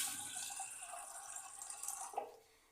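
Tap water runs steadily into a vessel, filling it to heat for drinking, with a continuous splashing hiss that fades out near the end.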